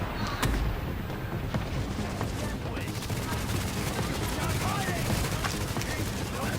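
A boss laying down suppressing gunfire in The Division video game: dense, continuous bursts of rapid shots and impacts with booming low thumps, steady and loud for the whole stretch.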